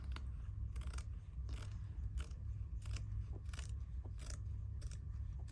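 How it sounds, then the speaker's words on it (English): Scissors trimming a small fabric edge during stitching work: repeated crisp snips, roughly one every half second, close and faint over a low steady background hum, with no talking. "I'm going to trim a little bit of this off."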